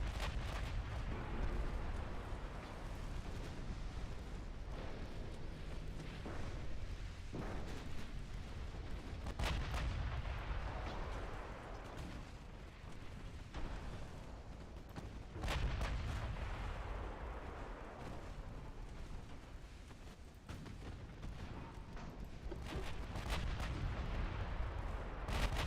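Battleship guns firing in the naval warfare game Ultimate Admiral Dreadnought during an Italian campaign: dense, continuous rumbling booms and overlapping heavy blasts roll on for the whole stretch, loud and unbroken, with no voices.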